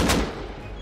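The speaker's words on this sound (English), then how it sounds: "I'm being shot by the fucking..." A single loud, close gunshot burst from the video game Rust, a sharp blast that decays quickly into a short rumbling tail.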